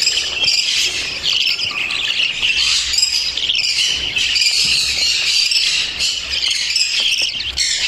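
A large brood of budgerigar chicks squawks and chirps from opened nest boxes, a dense, continuous chorus of shrill, high calls close by with no pauses.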